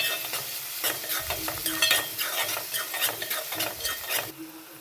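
Salted vegetables frying in a pan, a dense close sizzle with repeated rhythmic scraping strokes as they are stirred, easing off near the end, no speech.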